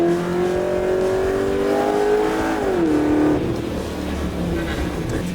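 A stock daily-driver car engine revs up with a rising, steady drone, climbing in pitch before dropping back after a gear change, loud and close with no talking.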